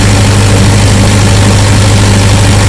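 A Cummins 40 kVA diesel generator engine idles loudly and steadily, a constant low rumbling drone with no change in pitch or rhythm.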